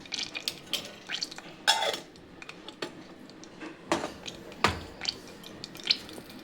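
Mustard seeds, urad dal and fennel seeds spluttering in hot oil in a pan, cooking for a Tamil ivy gourd fry: irregular sharp pops and crackles, some loud and close, scattered across a quiet background.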